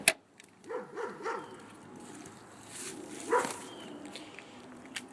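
A dog barks in a few short bursts near the start, then gives a sharper yelp a little later, heard at moderate distance over quiet outdoor background with faint footsteps.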